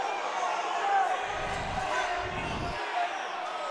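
A home basketball gym crowd in Taylorville murmurs and grumbles disapprovingly after a timeout call, with broad rumbles of crowd noise and a few bounces.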